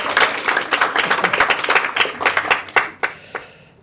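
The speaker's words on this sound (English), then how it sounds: "can we just have another round of applause for the incredible speakers we've had so far" An audience applauds speakers at a global citizenship education panel, with a dense burst of clapping hands close by that thins out and fades toward the end.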